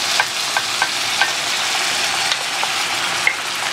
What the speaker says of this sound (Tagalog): So, ihahalo natin siya yung seafood mix.